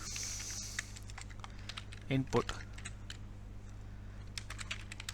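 Python code is typed on a computer keyboard in quick, light clicking bursts scattered through the clip, with a steady low hum underneath and a brief murmur of speech midway.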